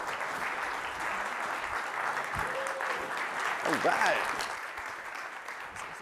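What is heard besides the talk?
audience applause for a host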